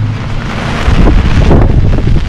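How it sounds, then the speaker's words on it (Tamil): Strong wind blowing through rain, buffeting the microphone in loud, rough gusts that swell midway, with a low rumbling roar and no voices. "உங்களுக்கு இந்த காற்றோட சத்தம் கேட்கும்னு நினைக்கிறேன்."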